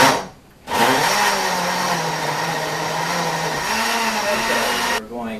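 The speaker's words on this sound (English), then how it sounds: "turn the blender on" Kitchen blender whirring steadily as it purees cut tomatoes, a loud continuous motor drone starting after a brief pause and running several seconds before slowing at the end.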